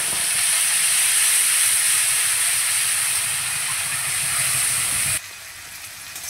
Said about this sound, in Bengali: এবার আমি ফোড়নের মধ্যে দিয়ে দিচ্ছি একটা গ্রেট করে রাখা টমেটো। টমেটো দিয়ে কিছুক্ষণ ভেজে নেব।